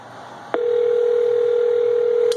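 A phone call placed on speakerphone clicks on, then a steady, loud, unbroken tone holds for the rest of the moment, with faint room hiss behind it.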